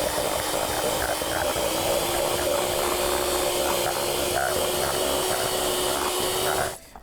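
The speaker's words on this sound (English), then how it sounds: "So I'm going to use my electric whisk for this." An electric hand whisk beats butter for carrot loaf cake icing, giving a steady, loud motor whir with a constant pitch that runs unbroken for several seconds and then cuts off at the end.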